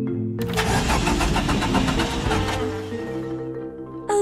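A cartoon car engine cranks with a fast, loud rattling chug that fails to catch, then sputters and dies away. A brief tonal squeak comes at the very end.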